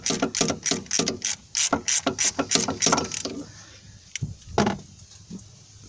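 An H10 hex head on a ratchet loosens the timing tensioner pulley on a Lexus LS 400 engine, giving a rapid burst of close, sharp clicking, then a few slower isolated clicks after a pause.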